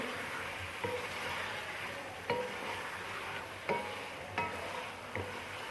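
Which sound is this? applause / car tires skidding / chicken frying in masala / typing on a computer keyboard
chicken frying in masala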